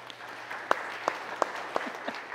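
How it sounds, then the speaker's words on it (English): Applause at a Sunday church service, a soft spread of clapping in a large room with a few sharper, nearer claps standing out at a steady pace. "So let us welcome them with a round of applause."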